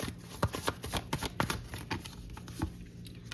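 Tarot cards being shuffled by hand, a quick run of crisp riffling flicks and soft slaps close by, fairly quiet, with no talk over it.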